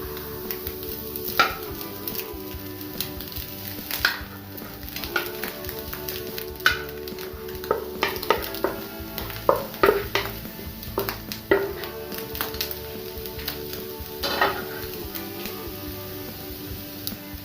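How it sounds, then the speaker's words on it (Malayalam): A spatula scrapes and taps through cooked rice being mixed into egg fried rice in a pan, giving irregular clatter and knocks over a faint sizzle, close and without speech. "അപ്പം നമുക്കിനി നമ്മൾ വേവിച്ച് വെച്ചിരിക്കുന്ന റൈസ് കൂടി ഇതിലിട്ട് മിക്സ് ചെയ്തെടുക്കാം."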